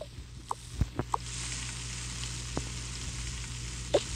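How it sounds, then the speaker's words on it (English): Food frying in a pan on a stove, a quiet steady sizzle beneath a few scattered light clicks and taps, heard close and alone without any talking. "Turns on the stove and it's cooking."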